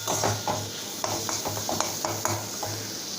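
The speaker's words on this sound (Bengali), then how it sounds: "আবার সমস্তটা ভালো করে মিশিয়ে নেব।" A spoon scrapes and stirs spices with Kashmiri red chili powder and salt in a hot oiled pan for a fish-head lentil dal, making quiet repeated strokes over a soft, steady sizzle.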